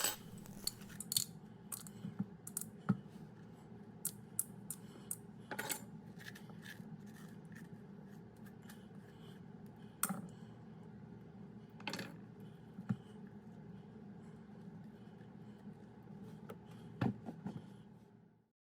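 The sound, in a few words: spoon scraping seeds and insides out of a pumpkin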